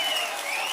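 A crowd claps loudly and continuously at a TDP political election rally, a dense, even burst of applause with no clear voices over it.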